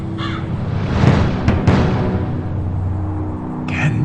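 Crow cawing in the video game Gabriel Knight 3, rough harsh calls over a dense, loud background of game ambience, with a few sharp clicks midway and no speech.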